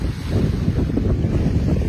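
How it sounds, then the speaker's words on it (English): Sea surging over coastal rocks, a steady rushing wash of water mixed with heavy wind buffeting the microphone, loud and close with no voices. "I just like to watch the sea going across the rocks."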